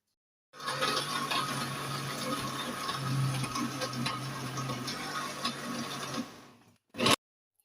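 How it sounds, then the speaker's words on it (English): A blender runs steadily on ingredients for Ghanaian jollof rice, a loud, close whirring grind lasting several seconds that stops abruptly and is followed by a brief final burst. "so I just add them to it to blend"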